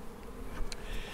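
Honeybees buzz around an open beehive during a Bailey comb change, a soft continuous hum with a few individual bees droning close by, quiet and outdoors.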